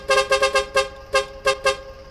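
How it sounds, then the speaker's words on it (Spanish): Truck horn in American Truck Simulator, sounding in a series of seven loud, sharp honks of uneven spacing, some paired quickly and others spread apart, over a low engine hum. "tocamos claxon."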